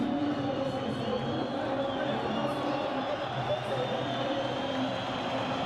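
A stadium crowd at a Portugal versus Egypt football match applauds as Mohamed Salah is substituted off, a steady, dense wash of clapping and cheering with a commentator talking over it.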